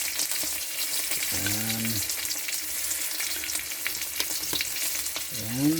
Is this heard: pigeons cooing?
no